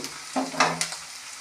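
Onions fry in a pan with a soft, steady sizzle, broken by a few brief stirring scrapes and knocks of a spoon, close and fairly quiet.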